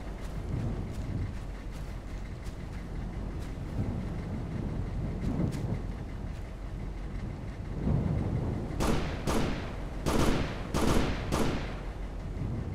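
Distant rumbling combat in Operation Flashpoint: Dragon Rising, low booms rolling under steady background noise, then a sequence of several sharp, louder gunshot cracks toward the end.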